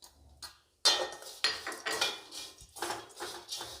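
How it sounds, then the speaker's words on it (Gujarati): Puffed rice sev mamra being mixed with chutney, a run of close, bright metallic clinks and scrapes of a spoon against a bowl in uneven bursts, with a short silent gap near the start. "સરખી રીતે હલાવી લેશું જેથી ચટણી મળી જાય બધામાં"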